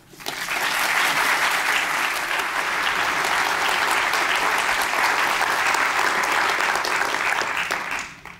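An audience at a lecture breaks into sustained applause for a few seconds, loud and even, fading out at the end, welcoming the speaker Robert Zubrin.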